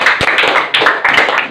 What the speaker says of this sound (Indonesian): Oke, kita berikan tepuk tangan untuk Fajar.